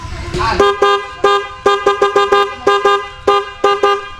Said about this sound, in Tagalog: Pero okay na yung busina niya.